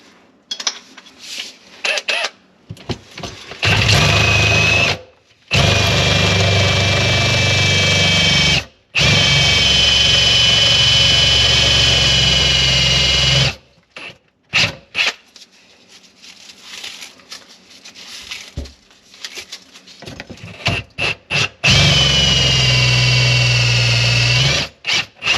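A Ryobi power tool drives a socket during a troublesome sink install, whirring loudly and close in runs of several seconds, with stops, short trigger blips and a final sustained spin.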